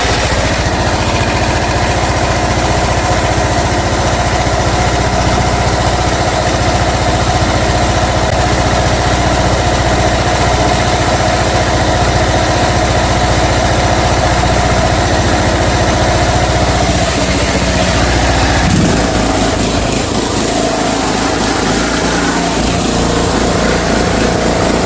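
Zero-turn mower's small engine, previously blown and now started off a jump starter, idling steadily and loudly with a constant drone and vibration, its tone shifting near the end.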